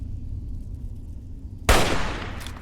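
One sharp, loud gunshot in the game Fallout 3 bursts out over a low rumbling background, followed by a decaying roar, with no voices.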